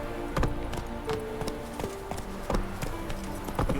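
Hooves of the horse Roach in The Witcher 3, a close, irregular clip-clop of hoofbeats at a walking pace with soft background ambience and no talk.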